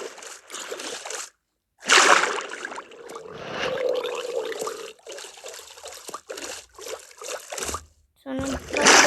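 Water splashes and trickles in the Minecraft video game in loud, rushing bursts broken by brief silent gaps, with people talking over it.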